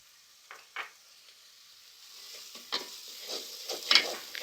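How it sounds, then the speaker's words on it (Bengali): Ground cumin and coriander fry quietly in a pan as a utensil stirs them, giving soft scattered scrapes and a gentle sizzle that swells slightly toward the end. "দিয়ে নেড়ে মশলাটাকে মিক্সড করে নেব"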